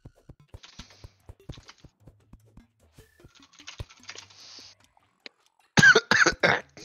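Close coughing to clear food from the throat, a cluster of three or four harsh loud coughs near the end, after soft keyboard typing and clicks.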